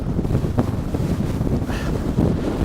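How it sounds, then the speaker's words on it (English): Strong wind on a hilltop near Stoodley Pike buffets a GoPro Hero 6 microphone in heavy, rumbling gusts, loud and close, with no talking. "it's so windy"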